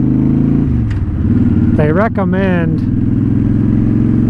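A Honda Shadow motorcycle with a Cobra Streetrod exhaust and a poorly running carburetor thrums in a loud, steady low idle close by, while a person speaks briefly over the engine.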